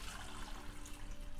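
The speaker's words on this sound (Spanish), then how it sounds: "Lo primero que vamos a hacer es poner el agua que está tibia" Warm water pouring into a pot for coconut rice pudding, a steady close splash and trickle that runs unbroken for the whole moment with no talk over it.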